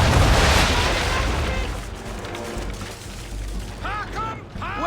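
Ship's cannon broadside fired in the Assassin's Creed 3 naval game, a loud booming blast opening the moment and rumbling down, with a sharp whistling tone rising near the end.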